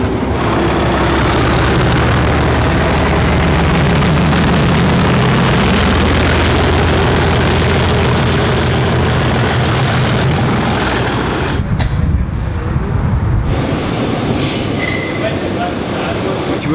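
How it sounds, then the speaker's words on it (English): Loud, continuous rumble of a train running, with steady mechanical roar and rattling that shifts briefly near the end. "The engine is so, it's so good. I like engines myself, I love the noise."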